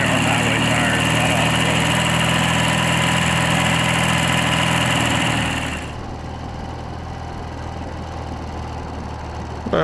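An E10 vehicle on highway tires drives along Daytona Beach, its engine running loud and steady before the level drops abruptly to a lower, rougher rumble for the remaining seconds.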